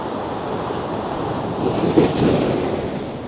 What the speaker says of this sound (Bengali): এই উতাল সমুদ্র